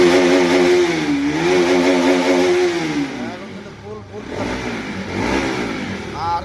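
An engine revs up to full rpm with a loud, close, rising and falling roar that holds high, while someone talks over it.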